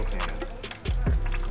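Motor oil splashes out of a car's oil pan in a short, close, wet burst of liquid spattering and dripping, with a couple of heavier splashes near the end.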